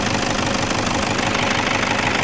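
A hot Toyota Vigo Prerunner 3.0 engine runs close by with a loud, dense, steady mechanical roar and knock, holding an even level throughout with no voices.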